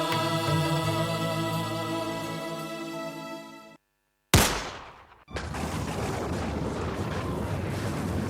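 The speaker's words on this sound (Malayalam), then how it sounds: "വെടി പൊട്ടി, തോക്കിൽ നിന്നും വെടി പൊട്ടി" A single sharp gunshot from a gun in a stage play cracks out loudly after music cuts to silence, then fades into a sustained noisy din.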